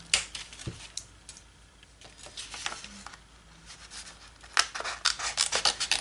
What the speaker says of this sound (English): Let me find my little scissors